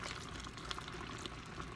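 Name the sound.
water being poured into a pot of sloppy joe mix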